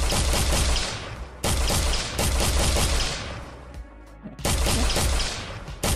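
Video game gunfire from a basic demo crackles in loud, dense rapid-fire bursts, three sustained volleys separated by brief pauses.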